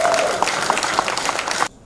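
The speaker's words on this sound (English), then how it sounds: "He deserves another round of applause." An audience at a press briefing breaks into brief, dense applause that holds steady for under two seconds and then cuts off abruptly.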